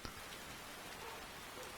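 Rain falling in the video game Skyrim, a dense, even patter of drops across the whole spectrum, steady and fairly soft with no voices.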